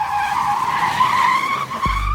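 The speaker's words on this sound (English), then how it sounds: "The screech of tires piercing the air as the car comes to an abrupt stop" Loud tire screech, a sustained high squeal from a car's wheels skidding under hard braking, ending with a thud as the car halts abruptly.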